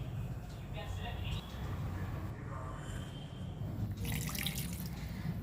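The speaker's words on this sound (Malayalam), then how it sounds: "ഇതിലേക്ക് ഒരു 2 കപ്പ് വെള്ളം ഒഴിക്കുക." Water poured from a cup into rice flour batter for soft paalappam, a steady splashing pour that swells louder near the end, faint kitchen background beneath.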